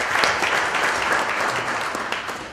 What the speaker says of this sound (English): I really like to applaud every one of you for that